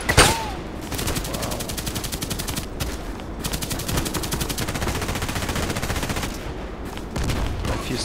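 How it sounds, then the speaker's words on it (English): Gunfire in the video game Contract Wars: rapid automatic bursts, loud and close, firing almost continuously with brief pauses between strings of shots. "Blind shooting."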